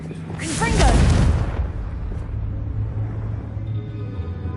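A Confringo explosion spell goes off in Hogwarts Legacy: a loud booming burst with a swooshing whoosh that peaks early, then gives way to a low lingering rumble.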